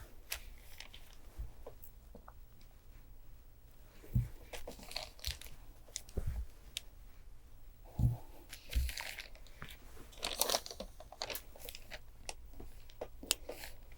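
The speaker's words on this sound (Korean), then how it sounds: "신문지를 놓고 처음에는 다리미로 눌러주세요." An iron presses hot-fix beads over a sheet of newspaper while reforming a flower cushion, giving intermittent papery crinkles and rustles with a few soft, dull thumps. The sound is close and moderately quiet, with no talking.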